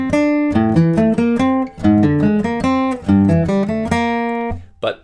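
An acoustic guitar picks the Westworld theme lick as a steady run of plucked notes over a repeating bass figure, close and clear, with no talking.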